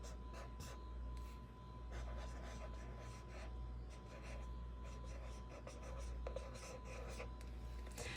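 A pencil writes freehand in an Easter-themed paper journal, a steady soft scratching that runs close and continuous under a low background hum.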